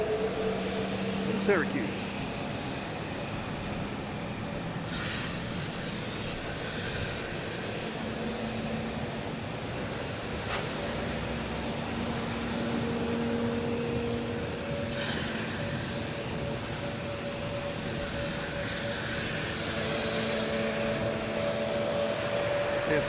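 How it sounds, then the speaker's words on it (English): JetBlue Embraer E190 jet departing Boston Logan Airport for Syracuse, a continuous engine roar with faint tonal whines, steady throughout, while a person talks over it. "There we have JetBlue and E190 heading to Syracuse."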